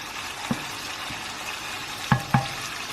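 Spicy Indian pork frying over high heat in a pan, a steady low sizzle broken by a few sharp knocks of a spoon against the pan, close with no talk.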